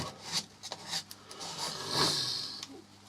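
Wood filler scraped off sandpaper and rubbed into small chip-outs in an elm and walnut bowl, giving soft, close rasping strokes that come in short bursts with a longer, brighter rub near the end.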